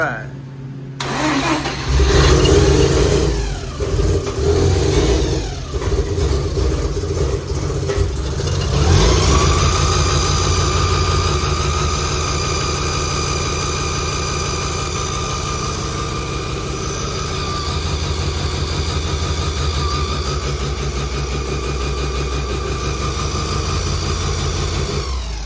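A tired car with a bad alternator cranks on a weak jump pack, catches and settles into a steady, loud idle that runs on without pause, with people talking over it.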